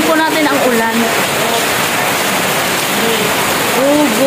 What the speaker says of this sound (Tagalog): sugurin po natin ang ulan.